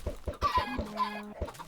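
Chickens in a video game cluck in quick, close succession, a run of short clucks with a drawn-out squawk in the middle, loud and without any talking.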